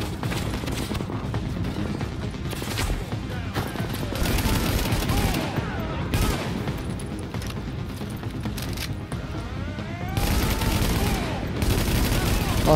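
Rapid, sustained minigun-like automatic gunfire in the video game The Division, long continuous bursts with brief pauses, loud and close, while players talk over it.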